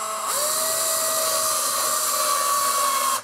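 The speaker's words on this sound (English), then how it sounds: "that's why you need a cordless drill with a clutch on it" A cordless drill whines steadily at close range for about three seconds while driving screws into an office desk build, its pitch holding nearly constant before cutting off abruptly.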